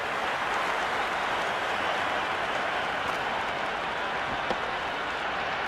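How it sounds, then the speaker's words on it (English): A cheering stadium crowd in the cricket video game Cricket 26 makes a dense, steady roar that stays loud and unbroken throughout, with no voices standing out. "The spectators are absolutely buzzing right now."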